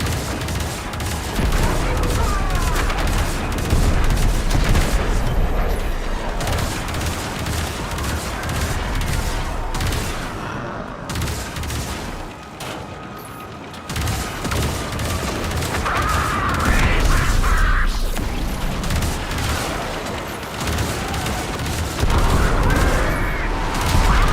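In the video game Warframe, turret guns fire in dense, sustained bursts of automatic fire with booming impacts, broken by a few short pauses across roughly twenty seconds of loud battle.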